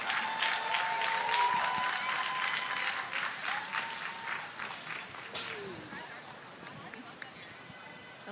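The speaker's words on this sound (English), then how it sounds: "Another round of applause for Jerry, our SGA president." Audience applause at a 2026 Guttman Community College commencement ceremony, a dense sustained clapping from a large crowd that tapers off toward the end, with a voice speaking over it.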